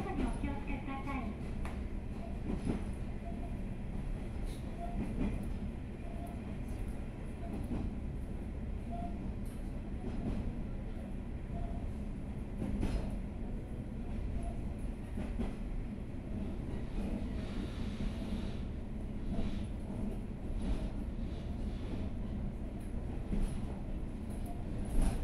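A KiHa 47 diesel railcar running on the San'in Main Line between Nagatomachi and Shimonoseki, with a steady interior rumble of engine and wheels, faint rhythmic rail clicks and occasional squeaks throughout.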